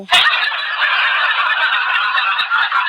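Loud, close chicken calling, a continuous harsh honking cackle that fills the clip without pause.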